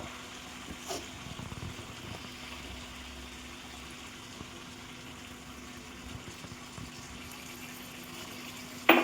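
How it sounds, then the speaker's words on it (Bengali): Hot water poured into a mutton curry with potatoes in a pan, a soft steady stream and light bubbling under faint background hum, ending with a brief sharp clank. "আবার একটু এর মধ্যে গরম জল দিয়ে দেবো।"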